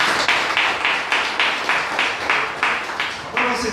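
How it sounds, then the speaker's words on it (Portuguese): A church congregation claps in strong, rhythmic unison, roughly two to three beats per second, loud and close with no talk. "Que a igreja possa saber ser abençoada com uma forte salva de palmas."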